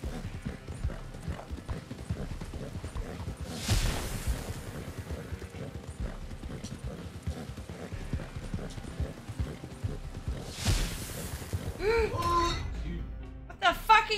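A horse galloping in a racing video game, with rapid continuous hoofbeats and two swelling whooshes of wind or crowd noise, a voice speaking over it at times.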